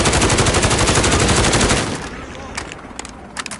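Rapid automatic gunfire from a new gun in the video game Modern Warfare, loud and dense for almost two seconds, then quieter scattered shots and clicks.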